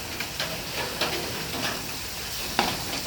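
Egg dropped into pasta frying in a pan at home, a steady close sizzle with faint stirring scrapes and a brief sharper spatter near the end.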